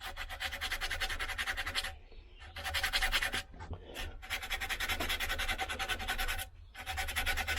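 Sandpaper rubbing a hand-carved wooden spoon, close rhythmic scratchy strokes in long continuous passes broken by short pauses, no talking.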